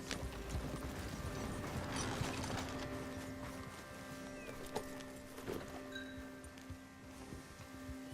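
Horse hooves clip-clop steadily in Red Dead Redemption 2, a continuous ride under a low ambient hum, moderately loud and close, with occasional mechanical creaks and no talk.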